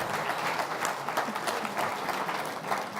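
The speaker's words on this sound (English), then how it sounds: "Let's give him a big round of applause." Applause from the audience at an awards gala dinner, a full, steady wash of many hands clapping, moderately loud and sustained throughout with a faint murmur of the crowd beneath.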